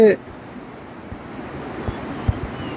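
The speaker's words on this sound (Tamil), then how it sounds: "எங்கடா தண்ணி சத்தம் போட்டு கேட்குதேன்னு பார்த்தா இங்கே ஓடிக்கிட்டு இருக்குது" Running water of a mountain stream on Sri Pada (Adam's Peak) rushes steadily nearby with a soft, wind-like roar, a brief voice at the very start and a few low thumps.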